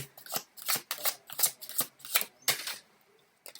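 Tarot cards shuffled by hand in quick riffling bursts, about ten crisp flutters in a brisk rhythm, close and fairly quiet, then a brief silence.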